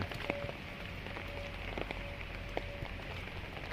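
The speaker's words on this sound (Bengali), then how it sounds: "বৃষ্টি পড়ছে, থামছেও না।" Steady rain falls continuously on surfaces during a prolonged monsoon downpour, a dense, even patter with scattered louder drops and no voices.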